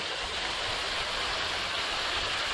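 Steady, dense roar of falling water from the top of Chain Mill Falls in Hanover, Indiana, close and loud, unbroken throughout.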